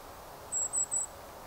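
Outdoors in Birch Bay State Park, a Bewick's wren gives three quick, thin, high notes in a row, faint against a low background hiss, with no voices.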